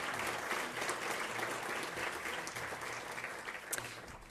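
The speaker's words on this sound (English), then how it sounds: "let's give them another giant round of applause for providing this lovely meal in these facilities." A banquet audience applauds steadily at a charity chapter's annual celebration dinner, a dense, continuous wash of many hands clapping that holds at an even level throughout.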